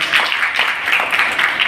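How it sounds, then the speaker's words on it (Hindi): Students at a women's college event applaud, a dense, steady wash of many hands clapping together at moderate distance with no pauses. "और आपको मेरी इस बात को सुनने के बाद और तालियां बजानी है"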